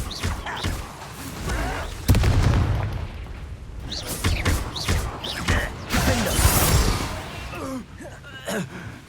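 Bombarda and Confringo spells explode in the game Hogwarts Legacy, several booming blasts with crackling bursts in quick succession amid combat noise, while voices shout and grunt.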